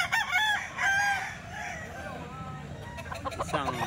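Roosters at a rooster sale crow loudly and close, with clucking between calls, and a second crow rising near the end.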